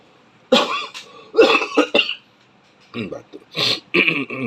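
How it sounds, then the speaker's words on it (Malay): Several harsh, bursty coughs come in two clusters, close to the microphone, with short pauses between them and no talking. "Tak seminggu dah batuk."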